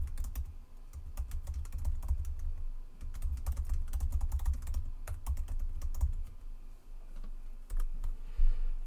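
Typing on a computer keyboard to rename a file in Windows 95, a close run of irregular key clicks over a low hum, continuous and without speech.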